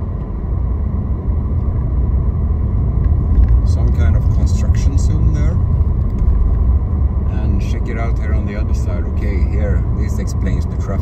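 Steady, loud road traffic rumbles near a school in Medina Elvira, Spain, with engines droning continuously and vehicles passing close by while a person talks over it.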